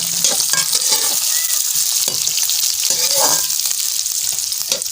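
Onions frying in a pan for macaroni masala: loud, dense, close sizzling hiss with intermittent scraping stirs of a utensil, no voices.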